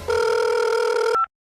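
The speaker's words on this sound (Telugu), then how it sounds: "మీరు పిఎం నరేంద్ర మోడీ లేకపోతే ఎవరికి ఫోన్ చేస్తున్నావు తెలియకుండానే చేసావా?" A telephone rings loudly in one steady electronic tone for just over a second and then cuts off abruptly. The ringing is heard alone, with no voices.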